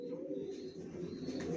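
Racer pigeons of the Johnson long-distance line coo softly in a loft, a low, fairly faint murmuring call running through the short stretch.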